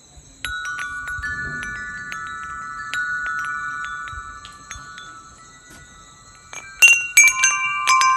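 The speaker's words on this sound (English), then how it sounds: "put back up my wind chimes because I love to hear them" Wind chimes hanging on a porch ring out in long, overlapping metallic tones, a few scattered strikes building to a brighter, louder cluster of chimes near the end, with no voices.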